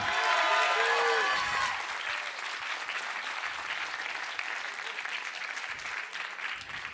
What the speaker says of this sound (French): on peut l'applaudir, on peut le féliciter